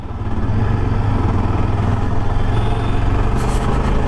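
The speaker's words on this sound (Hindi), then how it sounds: "अभी आप देख रहे हो 70-78 क्रूज कर रहे हैं हम, 73, और फिफ्थ गियर पे है बाइक" Yezdi Adventure motorcycle cruising in fifth gear at around 73 km/h, a loud steady engine drone with wind rush, smooth and unbroken from start to finish.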